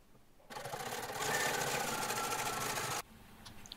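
Sewing machine zigzag stitching along the raw edges of jeans denim pieces and pocket facings, a steady close mechanical whir that runs for about two and a half seconds and then stops abruptly.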